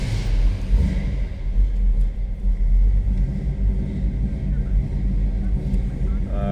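A 1938 Chevrolet Master Deluxe two-door sedan street rod's engine idles after a cold start, a deep, loud rumbling with uneven low pulses, close up and continuous.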